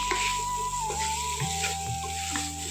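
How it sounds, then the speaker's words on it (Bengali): Potato and elephant foot yam sauté with spices in a pan, a dense steady sizzle close up with occasional stirring scrapes and a faint tonal hum running underneath. "এখন ভালো করে কষিয়ে নিচ্ছি মশলার সাথে আলু আর ওলটা"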